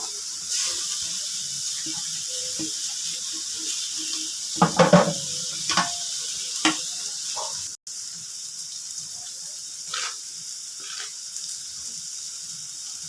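Pieces of radish bori fry in a pan, with a soft steady sizzle broken by several scraping stirs of a spatula near the middle, close and clear, with no voices.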